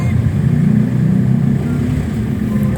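A motorcycle engine idles after its cleaned starter has been reassembled, a loud, close, steady low rumble holding an even pulse from start to finish, no talk.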